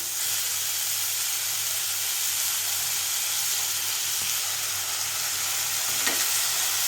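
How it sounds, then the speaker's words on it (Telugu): Fenugreek leaves fry in hot oil with a steady, close sizzle and hiss that runs unbroken throughout, and a faint stirring scrape comes through near the end. "మెంతాకు కూడా ఆయిల్లో మంచిగా ఫ్రై అయింది"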